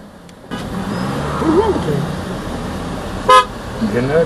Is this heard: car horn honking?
yes